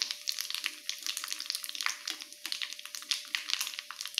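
Bay leaf and spices frying in hot oil and ghee for a Tamil dal, a bright, crackly sizzle with lively popping spatters that runs continuously with no talking.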